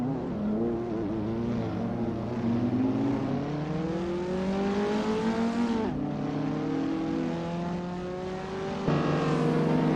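Race cars in a racing video game, including a 2002 Honda Integra Type R, drive with engines droning and revving. Pitch rises and falls as gears shift, and a few clear shifts are heard. The sound is steady, moderately loud and has no voices.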